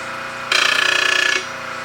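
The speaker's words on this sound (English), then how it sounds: "So now I'm going to sharpen one side until all the black is gone." A skew chisel is pressed briefly against a grinding wheel, giving a short, bright, loud grinding burst of under a second that rises abruptly and then cuts off, set against a low motor hum.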